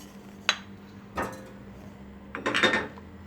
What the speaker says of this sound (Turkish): Diğer bir tenceremi alıyorum. Onun içerisine bir yemek kaşığı, bir dolu yemek kaşığı diyeyim, e, tereyağımı ilave ediyorum.